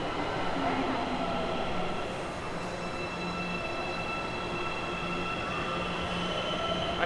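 A São Paulo metro train sounds inside a subway station, with a steady loud rumble and faint wheel squeal lasting throughout.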